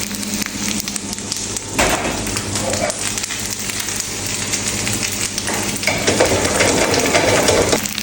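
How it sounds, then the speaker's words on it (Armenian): Small tomatoes fry in garlic oil with a pinch of salt for shrimp pasta, a close, continuous sizzle with occasional stirring clatter and no talking. "Լոլիկները թողնում եմ, որ քիչ տապակվի։"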